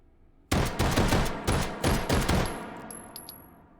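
Luger P08 pistol fitted with a stock and compensator fires a quick string of about eight loud, sharp shots in uneven rhythm, each with a short ringing tail, then fades to faint metallic clinks inside the H3VR virtual-reality shooting game.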